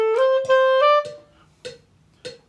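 Clarinet plays a short phrase from a 7th-grade band piece, three held, rising notes at close range, followed by quieter faint taps.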